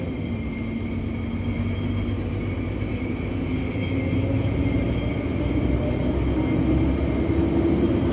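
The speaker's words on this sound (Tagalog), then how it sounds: "cargo train, container." A container cargo train passes at night, giving a loud continuous rumble of wheels on rail with a steady drone and faint squealing, unchanging for the whole stretch.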